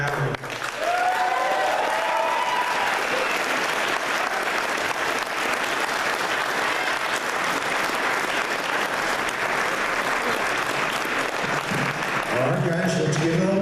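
Long, steady round of clapping from a gala crowd, filling the room at even loudness for over ten seconds, with someone speaking over it briefly at the start and again as it fades.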